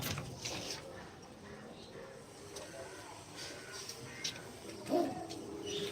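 Home-kept pigeons coo softly in their loft. One clearer coo stands out near the end, but the calls stay faint and distant under low voices and a quiet background hiss.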